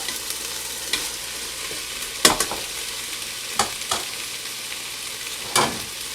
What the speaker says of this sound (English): So I'm going to return the sausage to the pot.